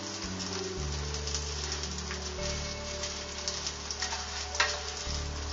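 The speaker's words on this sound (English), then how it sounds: "we're going to, in essence, fry the pasta a little bit." Fideo pasta frying in a pan while being stirred, a steady close sizzle with scraping stir sounds and a low background hum throughout.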